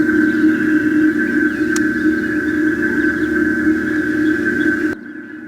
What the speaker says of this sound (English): It's basically a speaker up front that's just putting out this white noise, if you will, as a pedestrian alert